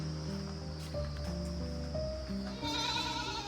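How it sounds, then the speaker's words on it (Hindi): A goat on a farm in a Himachal village makes a wavering, drawn-out bleat that shifts in pitch across several seconds, over low steady background noise. "ये हमारी बकरी बहुत बहुत बदतमीज़ बकरी है ये यार"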